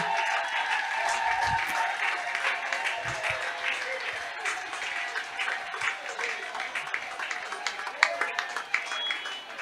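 A church congregation applauds and acclaims in sustained, dense clapping that carries on for several seconds, with crowd voices blended underneath and the clapping thinning slightly toward the end.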